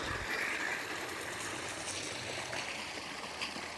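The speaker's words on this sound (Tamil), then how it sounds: "அப்படி இப்படியே மேல் வெயிலுக்கு தண்ணி போக ஆரம்பிச்சிடும்." Water flowing through an irrigation channel into a field, a steady, soft trickling and gurgling stream heard close and continuous with no pauses.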